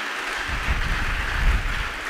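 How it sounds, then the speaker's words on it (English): A church congregation claps hands during a sermon, giving a sustained burst of many hands clapping together at a moderate, even level, with no voices over it. "Give a clap of hand to Jesus"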